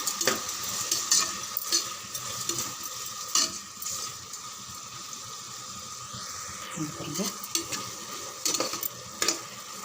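A tomato rice mixture sautés in a pan, giving a steady close sizzle with intermittent stirring scrapes and taps, while a voice talks faintly underneath.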